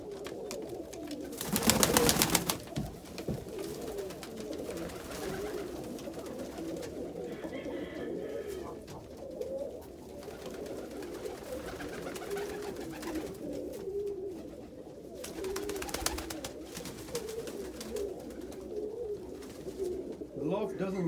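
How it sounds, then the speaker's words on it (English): A pair of dun Indian fantail pigeons coo in a loft with repeated low, throaty murmurs throughout, alongside rustling, a few louder flapping bursts and a person talking. "This is a nice pair of dun Indian fantails."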